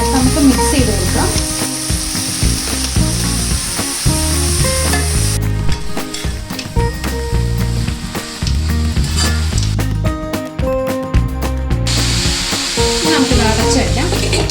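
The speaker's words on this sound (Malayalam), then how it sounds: "അര ടീസ്പൂൺ ഉപ്പ്, 1/4 ടീസ്പൂൺ മഞ്ഞൾപ്പൊടി, എല്ലാം ചേർത്ത് നമുക്ക് മിക്സ് ചെയ്ത് കൊടുക്കാം." Spinach and egg stir fry seasoned with salt and turmeric is stirred in a hot pan, with steady sizzling and repeated scraping and clinking of a utensil against the pan, close and loud.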